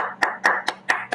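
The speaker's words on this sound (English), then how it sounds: "A round of applause for the two of you." One person claps five times at an even, brisk pace during an online meeting, each clap sharp and close over a faint steady hum.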